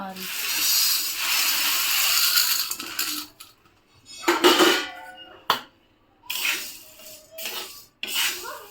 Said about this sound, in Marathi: आता भाजूया आपण चना डाळ